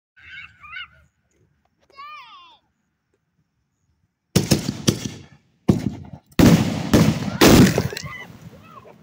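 Fourth of July fireworks go off very close in a rapid run of loud, sharp bangs and crackling blasts, following a quiet opening with a few brief faint voices.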